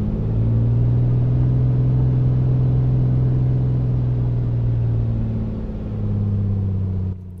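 Simulated engine of an A2A Comanche 250 light aircraft throttling up in a flight simulator, a steady loud droning hum that holds for several seconds, then shifts pitch slightly as power changes near the end.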